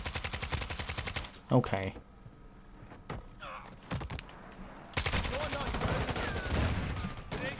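Video game gunfire comes in rapid automatic bursts, loud and close, with a pause in the middle and a long sustained volley at the end, while a person speaks briefly between the shots.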